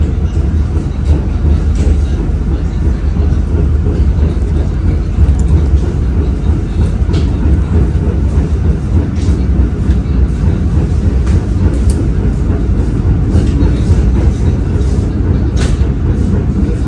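The Gaya Baru Malam passenger train runs along steadily with a loud, continuous low rumble and faint rhythmic rail clicks, heard from inside or close by for the whole stretch.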